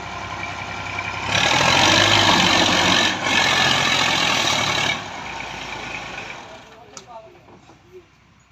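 A small tractor's engine idles close by in Punjab, Pakistan, a steady broadband rumble that holds loud for a few seconds with a brief dip, then drops to a quieter running level as someone talks over it.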